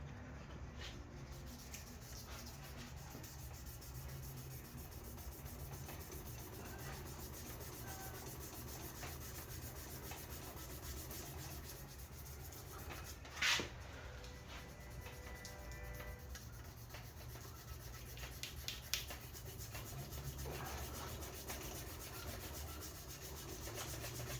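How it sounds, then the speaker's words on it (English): Steady, soft rubbing and scraping of hand sanding a Damascus knife handle, continuous and close, with a couple of brief sharper ticks along the way. "I've been hand sanding this thing"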